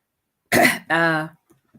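A single close, harsh cough or throat clearing, followed by a short voiced grunt, then quiet with faint small sounds.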